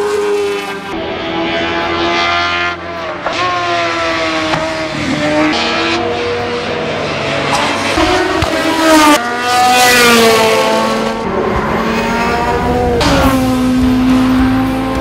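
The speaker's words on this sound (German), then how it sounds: "Lukas zirkelt das silberne Biest gekonnt durch die Kurve." Tracking RC01 race car with a silver Mercedes body cornering on a hillclimb course, its engine screaming loud and close with rapid gear changes, revs rising and falling through the bends, tyres squealing.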